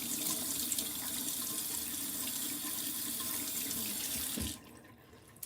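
Cold water runs steadily from a bathroom tap into a sink, a close, even rushing stream that cuts off abruptly near the end.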